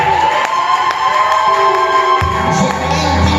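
A church congregation at a worship service erupts in loud, sustained cheering and acclamation, with shouts and whoops rising from the crowd over a steady organ-like tone.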